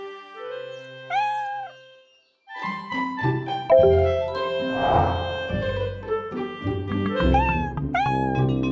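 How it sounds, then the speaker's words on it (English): A kitten meows several times, high and plaintive, over a light musical background. "The kitten is meowing."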